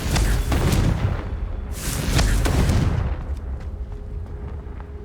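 Confringo fire spells burst in Hogwarts Legacy as two booming explosions with crackling tails. The blasts are close and loud, and sharper pops follow as they fade.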